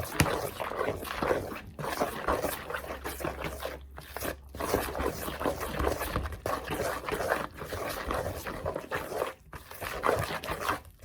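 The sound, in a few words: mixing corn fritter batter with a whisk or spoon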